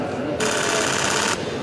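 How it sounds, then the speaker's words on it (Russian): A camera shutter fires in a rapid burst, a dense run of fast clicks lasting about a second over a steady background murmur. "Жалко, что это звук всего лишь фотоаппарата"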